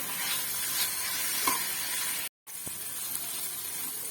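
Paneer frying on a low flame in a pan for chilli paneer, a steady close sizzle with small crackles and a faint clink, broken by a brief moment of silence before the frying hiss resumes.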